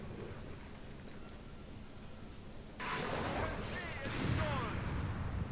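An anti-tank artillery barrage in a World War II real-time strategy game: a low background rumble, then sharp distant impacts and crackling blasts after nearly three seconds, building in a second wave toward the end.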